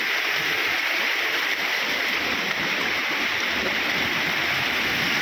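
Water rushes steadily at a new dam on a rainy day, a loud, unbroken broadband roar that fills the whole stretch with no pauses and no voices.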